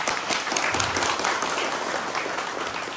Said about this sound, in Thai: ขอให้พี่น้องได้ปรบมือ